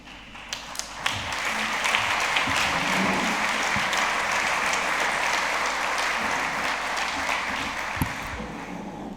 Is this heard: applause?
yes